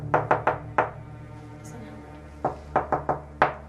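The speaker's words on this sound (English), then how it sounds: "When anyone does that knock" Firm knuckle knocks on a front door, a quick burst of four raps, a pause, then another uneven series of five or six, close and loud.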